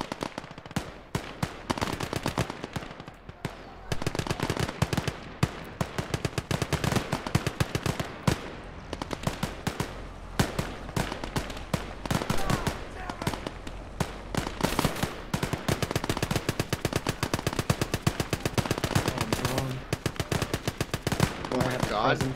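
Machine guns fire in long, dense bursts in the video game Gates of Hell. The rapid, loud gunfire continues almost without a break, and voices talk at times underneath.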